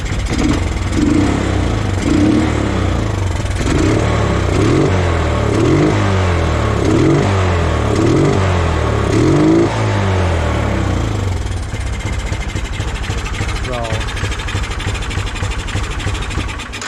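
A Honda ATC 185 three-wheeler fitted with a swapped-in Chinese 150cc engine, running cold and smoking heavily, revved in a series of rising and falling blips before dropping back to a rough, uneven idle, loud and close.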